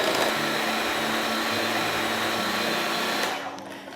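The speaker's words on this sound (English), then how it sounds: "I'm going to whiz all of this together before I add the fish" A food processor whizzes smoked trout pâté ingredients seasoned with salt and pepper, a loud steady whirring drone that runs for about three seconds before the motor winds down.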